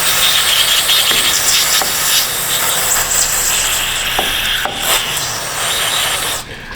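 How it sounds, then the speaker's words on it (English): Brake parts cleaner sprays onto the rear axle in a loud, steady hiss that runs almost the whole time, with a few brief clicks and a faint mechanical rumble underneath before the spray cuts off at the end. "Let's get some brake parts cleaner."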